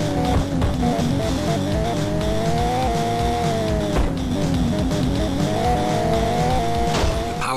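Engine note of a race car in the Mac game Unser's Racing running on an Amiga, a steady loud droning whine that climbs and dips with gear changes, with tyre squeal, alone without speech.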